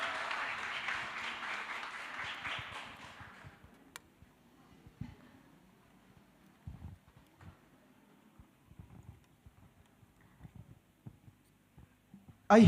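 Audience applause at a final singing competition, a burst of clapping lasting about four seconds that then fades to scattered taps and room noise, with a loud knock at the end.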